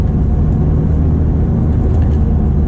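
Ferrari F430 on the road, a steady loud low engine drone with deep rumble and no pauses, heard from close by with no voices.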